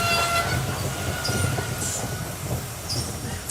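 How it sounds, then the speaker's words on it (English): Steam tank engine puffing into a station, steady rumbling chug and rail clatter with faint high whistle-like squeals, continuous and close, no voices. "Thomas puffed in."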